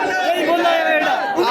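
A dense crowd roars and cheers continuously at Ravindra Singh Bhati's nomination rally, many voices blending into a loud, sustained wall of shouting with no breaks.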